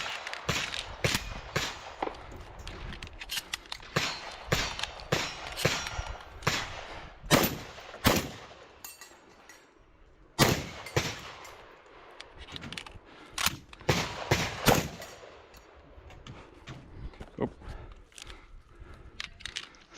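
Rapid gunshots at an outdoor multi-gun shooting match, with sharp repeated cracks in irregular bursts and short pauses throughout, loud and close, some shots echoing slightly across the range.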